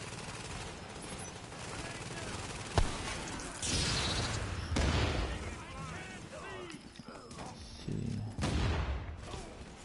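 Rattling bursts of machine gun fire in the video game The Division 2 come in repeated short volleys, loud and close, with players talking over the shooting.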